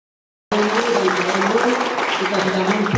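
Crowd applause starts abruptly after a brief silence and keeps going as steady clapping, with voices mixed in.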